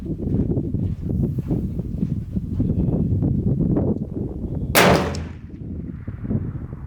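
A single rifle shot fired while zeroing a PR5 5-25x56mm FFP scope outdoors. Steady wind rumble comes first, then one sharp, loud report midway with a short fading tail.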